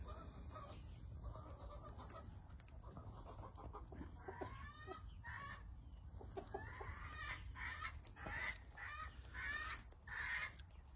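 Hens cluck and murmur nearby, with a run of louder, rising clucks toward the end over low background noise.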